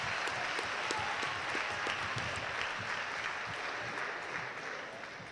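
Steady, dense applause from a poetry slam audience, clapping continuously at a fairly even level and tapering slightly toward the end.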